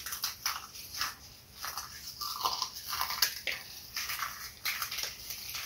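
Crunchy cheddar jalapeno Cheetos crushed by hand over a dish, a series of faint crisp crackles and crumbles in short bursts at close range.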